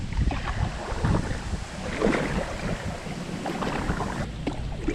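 Strong wind blows across open water on a fishing outing, buffeting the microphone with low rumbling gusts and splashy wash around a boat, no voices.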